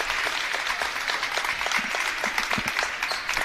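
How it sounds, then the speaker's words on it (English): Crowd in a gym at a girls high school basketball game gives a steady round of applause for a player fouling out, a broad, even wash of clapping that stays fairly distant. "Gets a nice hand from the crowd."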